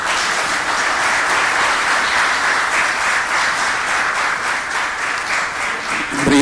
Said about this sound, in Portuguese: palmas mais uma vez para o Sr.